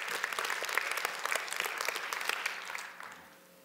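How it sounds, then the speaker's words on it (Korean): Church congregation applauding, a burst of many hands clapping at moderate distance that gradually fades out over a few seconds. "더 뜨거운 감사의 박수로 영광을 올려드립니다."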